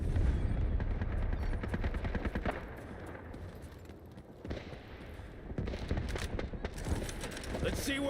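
An incoming artillery barrage in Delta Force, with dense rumbling blasts and rapid crackling fire merging into a continuous heavy roar that dips briefly midway, then swells again.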